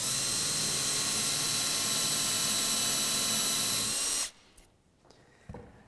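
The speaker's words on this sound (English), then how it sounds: "I'm using a 1/2 inch Forstner bit to make the holes" A drill turning a 1/2 inch Forstner bit bores dowel holes in wood for a rocking chair rail, a loud steady whine for about four seconds before cutting off abruptly, leaving quiet room noise.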